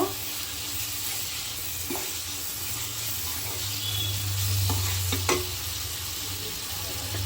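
Tomatoes frying in a pan for chicken fry give a steady, close sizzle with occasional clinks and scrapes of stirring, running continuously at moderate loudness without talk.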